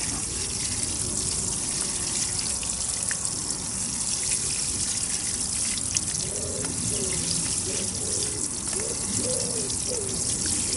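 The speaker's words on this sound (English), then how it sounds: "Give that a good half a canful of water." A watering can pours a steady, continuous stream of water over freshly planted Nerine bulbs in soil, a close gushing wash that runs unbroken, while a faint voice-like murmur rises in the second half.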